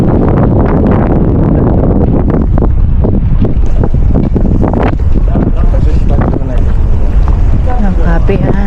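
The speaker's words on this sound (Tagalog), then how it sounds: "mahangin" Steady wind buffets the microphone at a breezy waterside spot with rented boats nearby, a constant rushing roar that runs throughout while someone talks over it.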